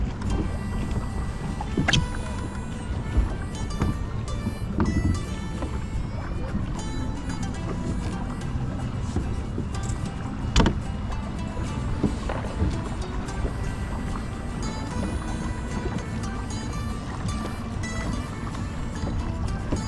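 A small sailboat cruises on open water while tacking and jibing, with continuous rushing water and wind noise and occasional knocks and splashes, fairly loud throughout.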